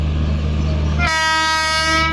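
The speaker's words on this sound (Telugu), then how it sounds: "ఇక్కడ ముందర ఒక ట్రైన్ వస్తుంది" A train rumbles close by, then a loud horn blares and holds steadily to the end, with no voices.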